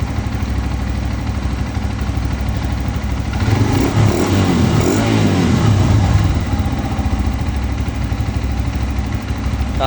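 A Rusi Flame 150i motorcycle engine idles steadily and up close, with a loud throttle rev rising in the middle before it settles back to a steady idle.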